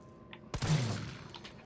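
A single sharp gunshot from the Resident Evil 3 video game cracks loudly, followed by a short decaying ring and low rumble, with no talk over it.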